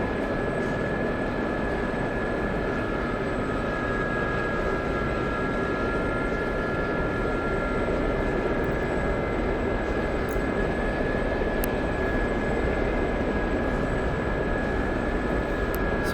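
A fixed-wing aircraft engine drones steadily in the DCS flight simulator while the plane taxis out toward the runway, a constant loud hum with a sustained whine and no voices.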